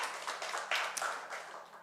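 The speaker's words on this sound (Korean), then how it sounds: "우리 하나님께 영광의 박수 올려드리겠습니다." A church congregation at a Korean Sunday worship service claps together in a dense burst of applause that stays steady and fairly loud throughout, with no speech.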